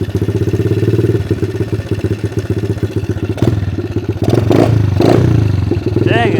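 Repaired pit bike engine, fixed after being blown up, running steadily with a loud, close, rattling idle and then revving up in several quick blips, with voices talking over it.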